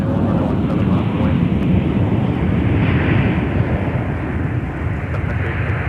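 Airliner jet at Minneapolis–St. Paul (MSP) airport, a steady loud engine roar filling the whole stretch with little change in level.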